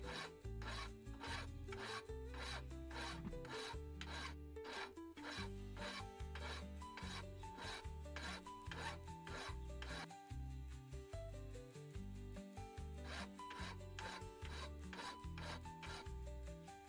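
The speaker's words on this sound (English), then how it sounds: "I'm working with the file here while it's still soft before the hardening process" A hand file works over a soft steel hammer-eye punch in steady, rhythmic strokes, each rasp sounding close and distinct in an even, continuous series.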